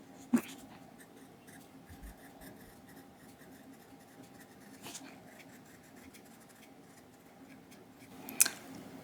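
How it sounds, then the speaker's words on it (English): A fountain pen with a Sailor medium fine nib writes on paper, giving a soft, steady scratching close by, with a couple of sharper taps and faint background noise. "I'm interested on seeing how it writes with a Sailor medium fine nib"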